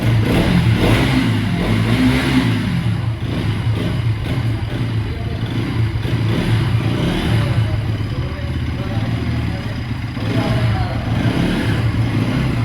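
An NS 200 motorcycle engine runs loud and close for the whole stretch, a steady low rumble with a few slight swells and some mechanical clatter.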